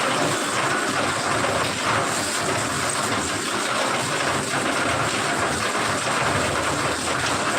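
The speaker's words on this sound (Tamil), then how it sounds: "ஒரு மாதிரி சாரல் மழை மாதிரி பெஞ்சிட்டே இருக்கு" Light drizzling rain falls steadily outdoors, a continuous, even hiss of fine drops with no breaks or voices, fairly loud and close throughout.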